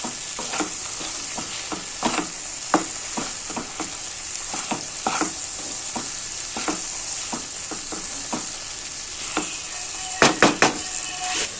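Okra and tamarind stew (bendakaya charu) stirred in a pot, with repeated spoon knocks and scrapes over a constant close sizzle and a quick cluster of sharper taps near the end.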